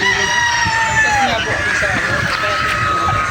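Gamefowl roosters of gray and white bloodlines crow at a chicken farm, several long overlapping crows at mid distance with scattered clucking, steady throughout.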